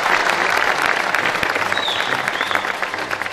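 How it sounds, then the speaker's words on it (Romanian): A crowd at a children's competition applauds loudly and continuously, dense clapping filling the space with faint crowd murmur underneath. "vreau cu toții să-i aplaudăm"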